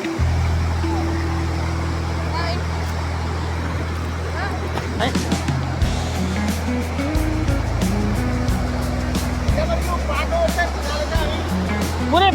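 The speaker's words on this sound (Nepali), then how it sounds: "यहाँ तमोर नदीमा यसो परम्परा अनुसार यसो मुख धोएर जाने कुरो छ ल नदी प्रवेश गर्दैछौँ हामी नदीको किनारमा" The Tamor River in Nepal rushes steadily nearby, a continuous loud wash of flowing water under a low droning engine hum, with people talking now and then.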